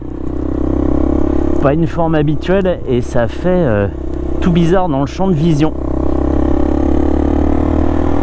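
A Suzuki VanVan motorcycle being ridden, its engine holding a steady, close drone beneath a rider talking throughout.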